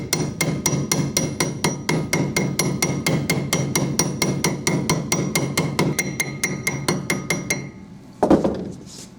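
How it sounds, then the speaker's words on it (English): A hammer pounds a socket to seat a seal into a UFP DB-42 trailer hub. About thirty rapid, evenly spaced metallic blows ring out close up, then stop before a final shuffle, with no talking. "What I do is I kind of go like this around the edge of it and just pound it down"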